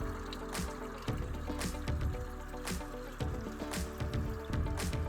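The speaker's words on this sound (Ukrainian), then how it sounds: "Ось таке джерело є." Spring water trickles quietly and steadily in the Carpathian mountains, with soft irregular splashes and drips over a low background hum.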